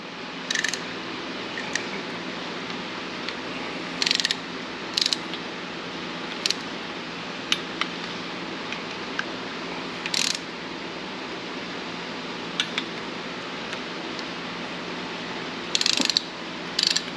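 A torque wrench ratchets engine bolts on a junkyard LS engine in a 1992 Firebird during a cam install, faint steady clicking broken by several sharper louder ratchet bursts spaced irregularly across the clip.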